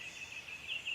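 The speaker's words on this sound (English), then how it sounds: "gobble" A wild turkey gobbles once at dawn off the roost in the woods, a faint, distant burst over quiet background hiss.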